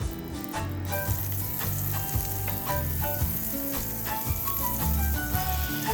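A tablespoon of butter melts in extra virgin olive oil in a heated pan, giving a dense, even sizzle up close, with a faint tonal background of music beneath it.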